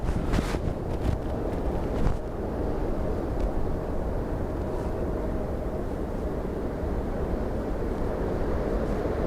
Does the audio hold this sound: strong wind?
yes